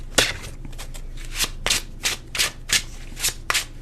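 A deck of tarot cards is shuffled close up, with a quick run of crisp, rhythmic riffling swishes, about ten in a row, each a short papery burst.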